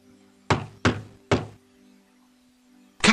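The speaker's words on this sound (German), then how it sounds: "Öffne Tür. Ich klopfe besser vorher an." Three loud, evenly spaced knocks on a door in the adventure game Simon the Sorcerer, followed by a pause and a fourth knock starting at the very end.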